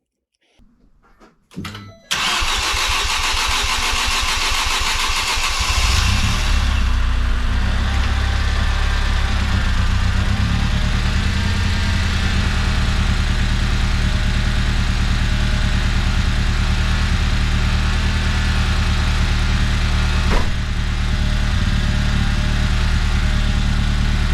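A Ford Fiesta ST engine swap cranks briefly, catches, and settles into a loud, steady idle that runs continuously without pause.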